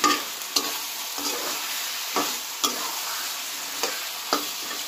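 New potatoes with their skins on hiss and sizzle steadily in a hot pan while a spoon scrapes and stirs in periodic strokes, with no talking.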